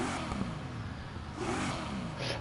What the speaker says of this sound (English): So this is the startup of the basic engine.